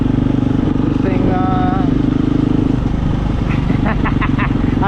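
A 2022 KTM 350 EXC-F dirt bike fitted with a Taco Moto SX1 ECU drones steadily at a constant engine pitch, close and loud, while a rider talks over it.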